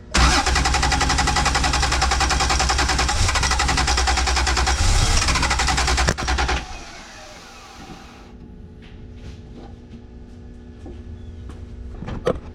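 J-swapped Honda NSX engine turned over with the key while failing to start: loud, steady cranking and engine roar for about six seconds, then it cuts off into quieter rattles and ticking.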